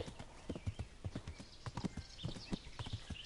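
Hooves clip-clop in a steady, quick rhythm, fairly close, as a horse rides off-road in the game Kingdom Come: Deliverance, with a faint whinny and quiet background noise.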